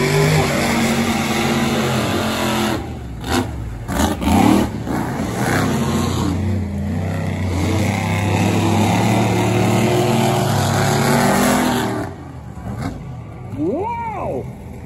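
Loud, roaring engines of monster trucks including Bigfoot racing at an outdoor arena event, with revving surges and crowd noise, and an announcer talking over parts of it.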